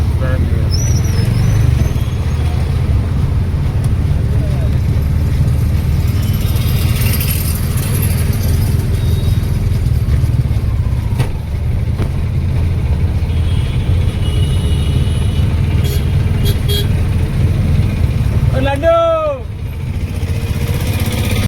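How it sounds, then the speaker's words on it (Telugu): Busy Hyderabad road traffic with auto rickshaw engines idling and puttering close by, a constant loud drone, a brief horn-like chirp near the end. "ఎన్ని ఆటోలు ఉన్నాయి రోడ్ల పైన"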